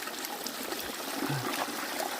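Clear spring water trickles steadily in a forest setting, making a soft continuous babble with faint splashes, heard close and alone without speech.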